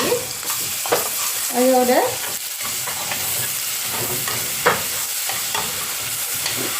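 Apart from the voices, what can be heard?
ginger garlic paste frying in coconut oil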